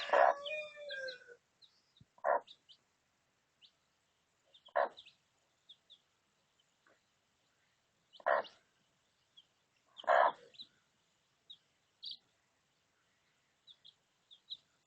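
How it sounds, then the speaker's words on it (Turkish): Scattered calls from chicks beside their mother hen, short clucking bursts and faint peeps spaced out over quiet background, fairly close. "annesinin yanında civcivler var"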